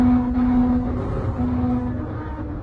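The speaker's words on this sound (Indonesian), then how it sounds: "Suara-suara masih masuk, suara mobil tadi lewat juga masuk, apalagi suara kolong, suara bannya itu masuk." Inside a Nissan Serena C27 cabin on a road trip from Surabaya to Jakarta, a steady low rumble of road and tire noise fills the space, with a passing car swelling briefly.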